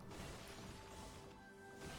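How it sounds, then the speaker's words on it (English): Clay pots breaking in the video game Okami, a quick crash of shattering ceramic over a steady bed of game music and ambience. "I do like just smashing pots"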